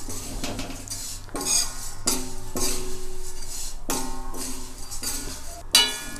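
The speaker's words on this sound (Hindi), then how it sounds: "अब इसको हम भूनेंगे चलाते हुए" A metal spoon scrapes and clinks steadily against a pan while poha chivda is stirred and roasted, a close, busy clatter of repeated scraping strokes with brief pauses between them.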